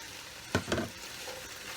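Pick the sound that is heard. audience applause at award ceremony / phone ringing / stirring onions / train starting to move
stirring onions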